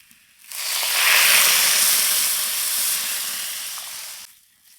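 Boiled taro water poured into a hot curry pan of fried spices and taro hisses and sizzles loudly, a bright steady burst rising quickly, holding for about four seconds, then cutting off.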